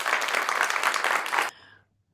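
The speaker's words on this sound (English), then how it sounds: "So let's give a big round of applause to Nancy." Podcast audience applause greets a guest, a dense burst of clapping that stops abruptly after about a second and a half and leaves only a faint low hum.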